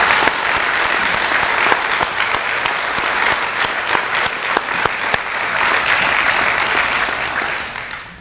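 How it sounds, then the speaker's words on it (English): Sustained audience applause for Hall of Fame inductees at a distinguished educators ceremony, steady dense clapping from a large crowd lasting throughout before tapering slightly at the end. "Let's give another round of applause to this year's Hall of Fame inductees"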